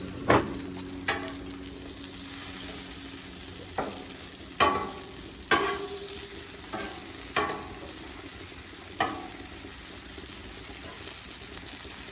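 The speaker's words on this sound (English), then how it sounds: "I'm gonna add the sausage in. Sausage I already had cooked before, so I'm just gonna warm it up" Precooked sausage warming and being mixed with eggs on a Blackstone griddle, a soft background sizzle broken by several sharp scraping strokes of a spatula at irregular intervals.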